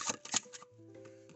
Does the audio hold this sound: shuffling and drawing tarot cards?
yes